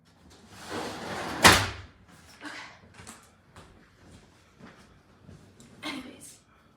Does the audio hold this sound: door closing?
yes